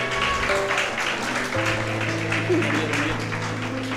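Wedding guests applaud after the kiss at a church ceremony, steady clapping mixed with a murmur of voices and a low sustained organ-like tone underneath.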